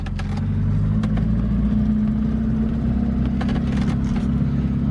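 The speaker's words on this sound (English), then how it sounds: "Car's probably been sitting here idling for" A 1977 Triumph TR7 Coupe engine runs steadily with a loud, constant low rumble and some faint clatter, heard close up without any talking.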